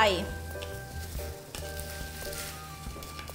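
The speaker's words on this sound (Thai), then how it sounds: "พอน้ำเดือดเรียบร้อยแล้วนะคะ เราก็จะใส่ข้าวเหนียวลงไป" Sticky rice pours into a pot of boiling water with a hissing, bubbling rush, over a steady background hum, while making sticky rice pudding with ginkgo and young coconut.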